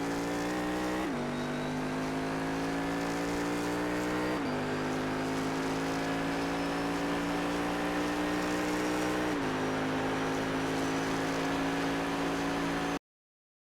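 A Cadillac CTS-V engine at full throttle on the Charlotte Roval track, a loud steady high-revving drone that climbs in pitch and drops sharply at each of three upshifts, running continuously without any talk.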